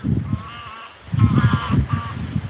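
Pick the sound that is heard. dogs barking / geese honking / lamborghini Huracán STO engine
geese honking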